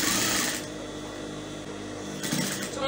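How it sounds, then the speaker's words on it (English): A sewing machine stitches a flounce on a blouse, a close steady mechanical whir running throughout, louder and buzzier at the start and again near the end. "and then I'm going to start stitching it"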